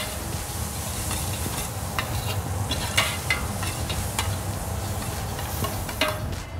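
Leek and curry powder stirred in a pan sizzle steadily, with frequent scraping clicks from the utensil against the metal, close and continuous with no talking.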